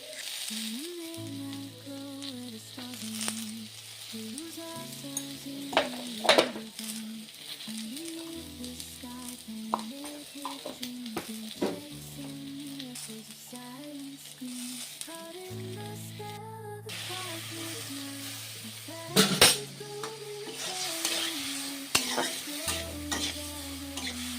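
Long-cut potato strips with turmeric and salt fry in a pan while being stirred, so repeated scraping and clinking of a utensil runs over a soft sizzle. A steady background tone sits underneath and nobody speaks.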